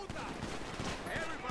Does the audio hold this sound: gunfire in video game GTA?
yes